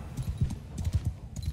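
Horse hooves clip-clopping in Mount & Blade 2: Bannerlord with the Europe 1100 mod, a rapid run of soft, fairly close thuds from a slow horse over a faint background.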